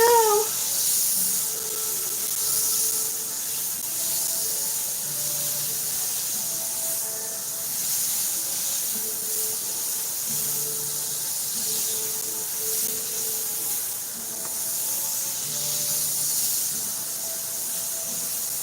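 Butter sizzling in a hot skillet for spiced potatoes, a long steady hiss with faint bubbling and small crackles, close and even throughout with no talk.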